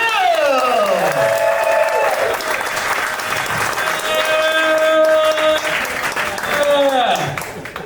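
A crowd applauds loudly and steadily, with cheers and a few whistles on top.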